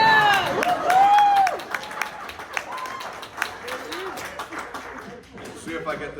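Crowd applause at a Riverside County public gathering: scattered, steady clapping runs throughout, opening with a cheering voice and with people talking and chuckling over it.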